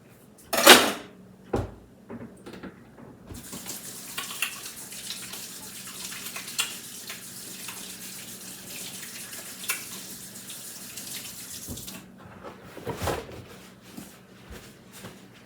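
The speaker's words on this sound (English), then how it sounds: "I'm gonna wash my hands and so I can get this done" Hands are washed under a running kitchen tap, with a steady hiss of water flowing for several seconds, framed by a few knocks and clunks before and after, with no talking.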